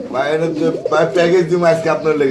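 Short face pigeons in a coop give soft, throaty cooing close by, with a voice talking over and between the calls.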